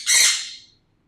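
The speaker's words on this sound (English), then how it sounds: "oh, those birds" A bird squawks once outside a window, a loud, harsh single call that swells quickly and trails off within a second, alone with no talk.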